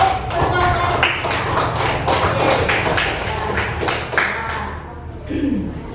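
A classroom of students claps for a classmate, a dense burst of hand claps lasting several seconds with voices mixed in before fading near the end.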